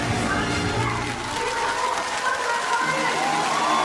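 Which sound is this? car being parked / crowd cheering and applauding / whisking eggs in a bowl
crowd cheering and applauding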